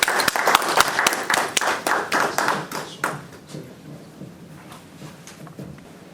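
Audience applause at an event welcoming the organizer: a dense burst of many hands clapping, loud and close at first, then thinning into scattered claps that fade out.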